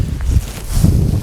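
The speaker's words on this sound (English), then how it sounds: "Ooh, windy." Wind gusting at a solo bushcraft campsite in a shallow hollow, a loud, steady rumbling buffet against the microphone with rustling in the brief gust.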